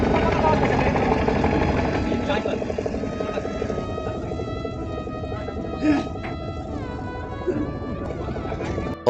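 A passenger launch arrives at a foggy river ghat in Nalchity, its engine a deep, loud droning rumble close by, with a few clanks and people talking over it.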